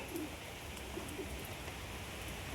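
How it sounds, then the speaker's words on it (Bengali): Pigeons coo softly at a distance, a few low, brief calls scattered through a steady, rain-like hiss of background noise. "অন্য পায়রাগুলো ডাকাডাকি করে শুরু করে দিয়েছে"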